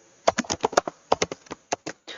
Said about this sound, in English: all I'm going to do is type out hello